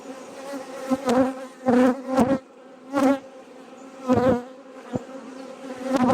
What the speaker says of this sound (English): Nice calm. Black bees.